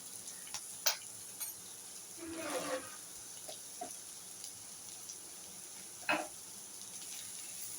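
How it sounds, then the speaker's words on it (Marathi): Cowpeas dusted with turmeric powder roast in a pan, heard as faint dry sizzling and a few scattered scrapes and clinks of stirring, quiet and close. "तर ती आतां हळदीचो पिठो थोडो तातूंत घालता. मागीरूय घालूंक जाय पण आतां भाजतना थोडो घालता."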